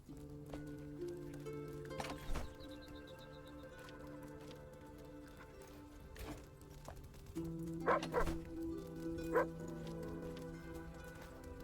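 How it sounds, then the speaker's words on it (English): A dog in the video game Enshrouded gives low, quiet growls and grunts among other game sounds such as hums and tones, faint and intermittent, with little or no talking. "And did the dog just growl? I think the dog just growled."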